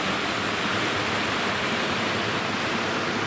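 A shaded forest creek, George Creek, rushes steadily nearby, a constant broadband wash of flowing water with no talk or other sounds.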